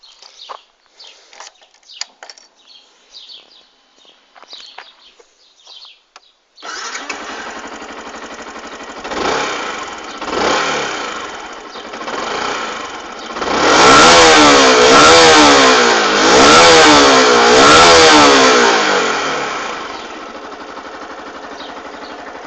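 Faint clicks and small noises come first, then a motorcycle engine starts up and idles, followed by several loud, rising revs close by.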